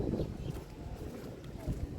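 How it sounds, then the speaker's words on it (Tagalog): Wind gusts buffet an outdoor microphone, a steady low rumble that swells and strengthens with a few louder surges, heard where airsoft and air guns are being tested. "So kita nyo, lumalakas yung hangin."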